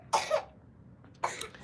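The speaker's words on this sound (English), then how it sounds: "She having a little cough." A pet coughs at home at night, two quick hoarse coughs close together and then a third after a short pause, faint and close against quiet room noise.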